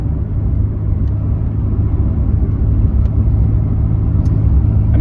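BMW G80 M3 Competition pulling hard in first gear, a loud, steady low engine roar and rumble with a constant drone and no gear change.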